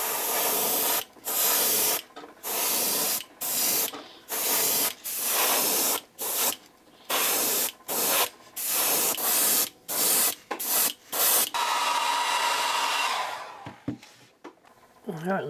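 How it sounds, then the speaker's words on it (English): Aerosol paint hisses in a long run of short bursts, roughly a dozen, onto a bamboo and brass lipless crankbait fishing lure, each spray loud and close with brief gaps between, ending in one longer burst and quiet handling. "I'm going to concentrate most of it on the top and let it overspray towards the center and the bottom of the body."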